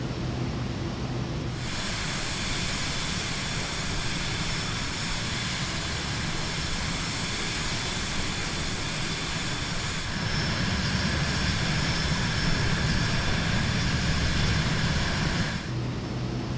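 Cirrus Vision Jet (FlightFX add-on) climbing in Microsoft Flight Simulator, a steady loud engine roar with a whining tonal hum that holds evenly, shifting tone partway through, alone without talk.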